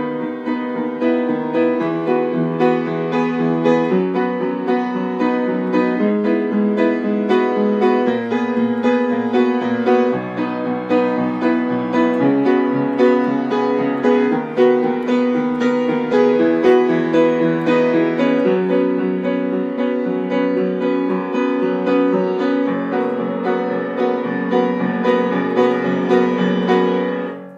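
Piano plays the instrumental section of a song at a slow tempo, a continuous steady stream of chords and melody notes at even loudness for nearly half a minute, with no voices.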